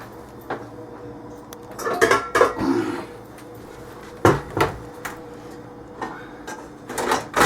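Metal pans and cookware clatter and clank as a pan is dug out and handled in a home kitchen for making cornbread, several loud close bangs and scrapes in irregular bursts.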